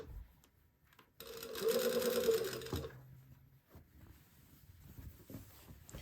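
Sewing machine stitching a blouse, a quiet tapping start followed by a steady whirring run of about a second and a half, then slowing and stopping with faint handling noises.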